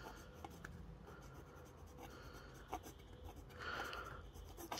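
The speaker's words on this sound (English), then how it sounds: "Let me try to reverse write with it." A Centropen 3770 fountain pen writes on paper with a faint, close, dry scratching and rubbing, soft intermittent strokes with a brief louder scrape near the end.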